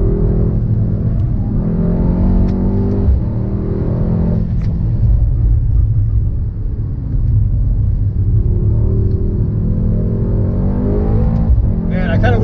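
A Mercedes-AMG GT 63 S 4-Door Coupe's engine rumbles steadily from inside the cabin on a track, its pitch rising and falling through a downshift to second gear, with someone talking over it throughout.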